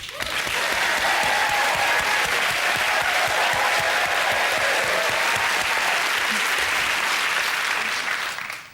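A studio audience at the TV music quiz Never Mind The Buzzcocks breaks into loud, dense, continuous clapping that holds steady for several seconds before cutting off.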